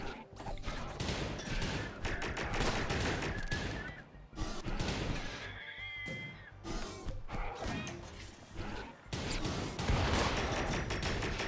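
Dense gunfire from a video game shootout, near-continuous loud shots and thuds in rapid irregular bursts, with occasional short pauses and faint voices underneath.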